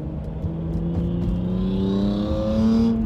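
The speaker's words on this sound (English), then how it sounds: "I don't know why this guy is like making his car so loud." A nearby car engine revs loudly at a traffic light, a steady droning roar rising in pitch over three seconds, heard alone without talk.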